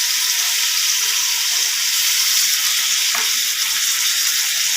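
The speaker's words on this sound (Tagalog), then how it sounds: "Sardinas oil po tayo mga kababayan na ginisa" Sardines in oil sautéing in a pan, a loud, continuous close-up sizzle with steady stirring running the whole way through.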